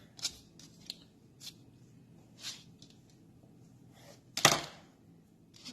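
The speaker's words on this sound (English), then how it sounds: "you're just cutting them into 4 equal pieces and tossing them in your bowl here" A knife or scissors cuts through soft biscuit dough in a home kitchen, the pieces going into a bowl. Several faint, separate snips and soft thuds are spread out over quiet room tone, with one louder cut near the end.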